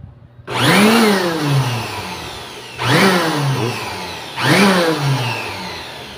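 Powerful electric air blower aimed inside a computer system unit, roaring up in three loud bursts, each with a rising whine that winds down before the next blast, close and alone with no voices.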